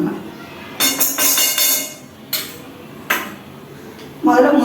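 Cashews and almonds roasting in ghee in a pan, stirred with a metal spoon: a run of clattering scrapes and taps against the pan, with a few separate clinks afterwards and a louder sizzle at the end.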